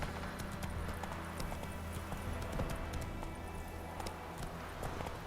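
Roach the horse trotting in The Witcher 3: Wild Hunt, steady rhythmic clip-clop hoofbeats at a moderate level over game ambience, with no talk.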